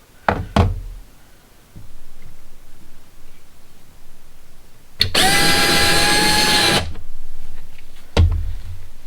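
Knocks and taps precede a loud, harsh burst of hand-aimed hammer drilling lasting about two seconds, followed by another solid knock.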